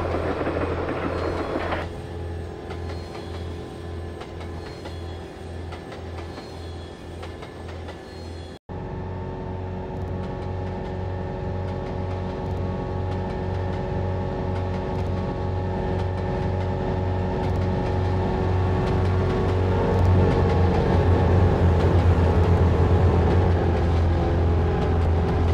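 Passenger train running steadily on tracks through mountain country, a continuous loud rumble with low droning tones; a brief cut partway through, after which the rolling noise swells slightly and carries on without pause.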